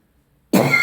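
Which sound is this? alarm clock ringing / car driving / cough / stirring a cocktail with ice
cough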